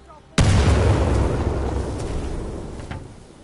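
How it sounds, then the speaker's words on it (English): A frag grenade detonates in a video game with a sudden, loud boom that cuts in sharply and then rolls into a long, slowly fading rumble, with no talking over it. "Throwing frag!"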